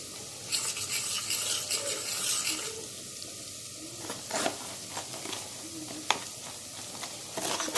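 Tomatoes dropping into a hot frying pan, a loud, continuous hiss and crackle of sizzling oil with scattered pops and stirring scrapes, heard close.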